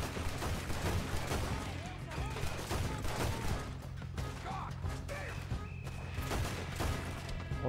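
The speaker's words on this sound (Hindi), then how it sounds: "हर तरफ से गोलियां चल रही हैं" Video game gunfire rattles from all sides during a bank shootout in Red Dead Redemption 2, with dense overlapping shots and impacts at moderate loudness mixed with game sound throughout.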